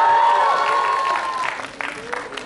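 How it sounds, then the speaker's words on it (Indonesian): Audience applauding at the premiere of the horror drama film Temurun, sustained crowd clapping under a voice and a tonal sound at first, then loose scattered claps toward the end. "tepuk tangan untuk Inara Syarafina"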